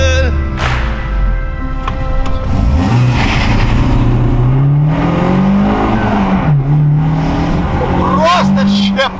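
A Zhiguli (Lada) car accelerates hard while racing, its engine note climbing and surging loudly and continuously, with voices talking over it throughout.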